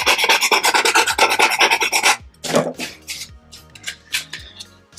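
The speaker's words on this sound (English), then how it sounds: "I'm gonna actually sand that down" A freshly cut edge on a stormtrooper armor part is sanded by hand, a rapid rhythmic rasping of close, loud strokes for two seconds, then slower scattered scrapes and rubs.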